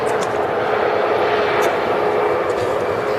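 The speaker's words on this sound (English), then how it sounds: "you can see the reverse is being used, slowing the aircraft down" A jet airliner roars loudly in reverse thrust after touchdown at Manchester Airport, a sustained broad rushing engine noise with a steady whine, continuous and close throughout.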